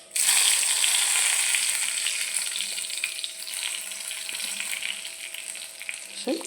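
Dried red chillies sizzle loudly in hot oil after mustard seeds have popped, a steady bright frying crackle that starts sharply and eases slightly over time, with no voices.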